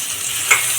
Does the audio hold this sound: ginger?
yes